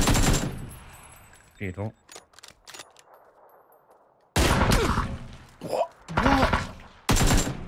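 AK and M24 gunfire in the PUBG video game comes as sharp, loud bursts and single cracks between stretches of near silence, with a player talking between shots.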